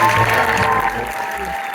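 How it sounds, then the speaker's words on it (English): A festival audience at a Tribeca Film Festival Q&A gives a steady round of applause, a full, continuous wash of many hands clapping at once. "Another round of applause for our amazing"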